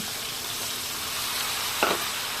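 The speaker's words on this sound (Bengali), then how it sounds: "ভালো করে নাড়াচাড়া দিয়ে কষিয়ে নিব আলুগুলা" New potatoes sauté with spices in a pan, giving a steady, even hiss of frying throughout, with one brief scrape of a stirring spoon near the end.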